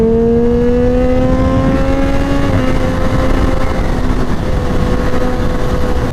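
Engine of a 2013 Triumph Daytona 675R supersport motorcycle revving close by, its tone climbing and then holding at a steady, loud drone throughout.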